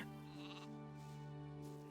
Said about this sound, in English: we shall not kill this sheep